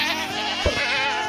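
Goats bleating in the video game Minecraft, one short nasal bleat rising briefly over a steady background of game sound, fairly close and clear.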